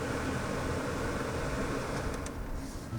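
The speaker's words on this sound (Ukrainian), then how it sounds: "Кондиціонер. Ну, все, що можу сказати, що він тут є, і дуже голосно працює." Air conditioner in a Daewoo Lanos car running loudly, a steady broadband blowing roar that fills the cabin without a break, with no talk over it.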